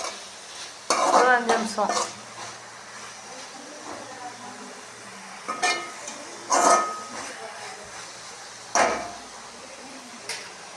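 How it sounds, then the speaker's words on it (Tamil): Drumstick leaves sautéed in a pan for a Tamil kambu rice dish, heard as scraping stir strokes and a soft sizzle coming in bursts, with someone speaking briefly over them. "முருங்கைக்கீரை போட்டு நல்லா அப்படி வதக்கி விட்டுக்கணும்"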